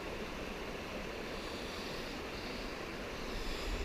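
Steady broadband rushing of Antietam Creek flowing beside a campsite, a constant close wash of water noise with no voices.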